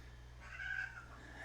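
A domestic cat meows once indoors, a short, fairly faint call rising and falling over a low steady hum, with no talking.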